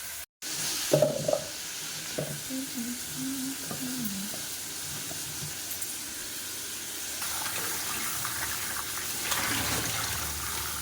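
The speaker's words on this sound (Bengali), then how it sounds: "চলো চিংড়ি মাছটা একটু ভেজে নিয়ে আসছি" Prawns fry in a pan with a soft steady sizzle after a brief clatter at the start, fairly quiet and without talk.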